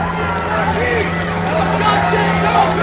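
A protest crowd on a Tucson street murmurs in a low, continuous babble of distant voices, with a steady hum running underneath and no single voice standing out.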